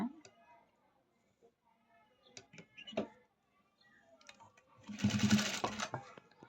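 A sewing machine stitches along a fabric edge in one short, close burst of rapid whirring near the end, preceded by faint clicks and handling sounds.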